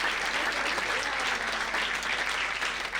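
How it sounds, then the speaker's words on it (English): A large crowd applauds warmly at the 2015 TEDx event at Ecole Hoteliere Lausanne, a steady wash of many hands clapping that sustains evenly throughout. "give a round of applause."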